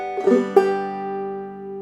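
Clawhammer banjo in round peak style plucks the opening measure of the tune June Apple: a few quick bright notes, then a ringing chord left to sustain and slowly decay, close and alone.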